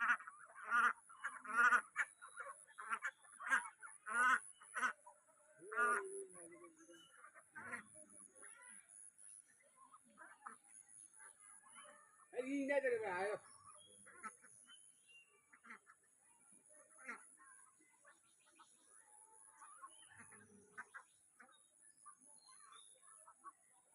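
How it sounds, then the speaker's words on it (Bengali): Two-and-a-half-month-old young ducks raised free-range quack in irregular clustered bursts, fairly faint against a quiet background, with a louder flurry partway through and a voice occasionally heard. "এটি আড়াই মাস বয়সের হাঁস আড়াই মাস বয়সের বাচ্চা হাঁস"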